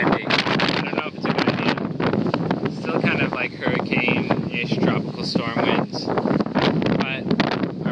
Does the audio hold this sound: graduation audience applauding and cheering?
no